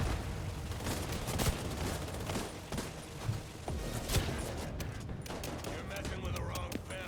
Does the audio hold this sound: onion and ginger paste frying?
no